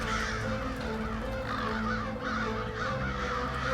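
A large flock of crows caws constantly during a crow hunt in Lanaudière, Québec, the harsh calls overlapping and layered near and far, with no break in the noisy chorus.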